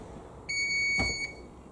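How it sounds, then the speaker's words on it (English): A single sustained electronic beep from a Blomberg LDV42221 integrated dishwasher, close and clear, lasting under a second, with a soft thump in the middle. "That's the beeping noise."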